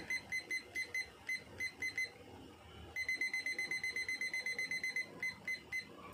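An acrylic bending machine's electronic timer beeps in quick repeated bursts, a short pattern, a pause, then a longer steady run of evenly spaced high beeps.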